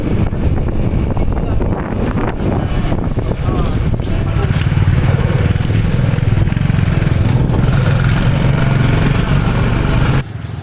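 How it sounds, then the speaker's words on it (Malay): A motorcycle engine drones steadily on a morning ride in Trang, Thailand, with heavy wind buffeting the microphone, loud and continuous for about ten seconds before dropping slightly at the end. "Memang tenang dan nyaman naik motor sambil menikmati suasana pagi macam ni."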